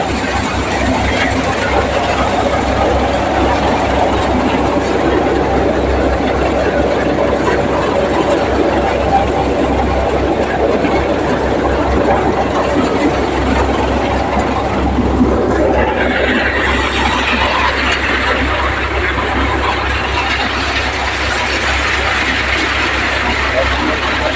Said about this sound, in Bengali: দেখুন সামনে পিছন দিয়ে গাছ কীভাবে সর্ষে বেরিয়ে আসছে মেশিনের থেকে